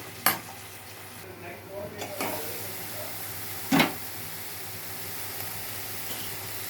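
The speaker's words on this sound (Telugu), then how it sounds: "కలుపుకొని మూత పెట్టుకుందాం" Onion and cauliflower are stirred in a pan with a utensil over a steady sizzle, and there is a scrape and clatter of metal. A lid clanks down partway through, and the frying then hisses on quietly.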